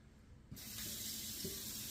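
A kitchen sink tap turns on abruptly and water rushes steadily into a pot being filled for cooking macaroni, a close, constant splashing hiss after a brief quiet start.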